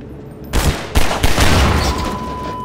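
Gunfire in the Half-Life 2 video game: sharp, loud shots burst in at about half a second and again near one second, followed by a sustained roar of firing that continues to the end.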